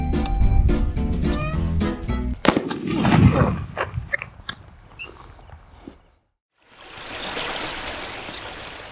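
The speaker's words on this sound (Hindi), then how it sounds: "पानी की आवाज़ आ रही है।" Music and clattering give way to a brief silence, then a steady hiss of running water begins and continues to the end.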